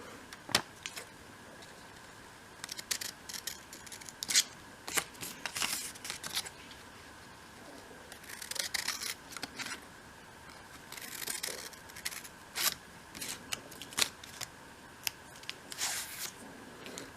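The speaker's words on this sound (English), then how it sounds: "Snip that bit out." Scissors snipping small paper flaps for a 1/12 scale model shop project, a series of quiet, crisp close-up cuts in irregular bursts with pauses between them.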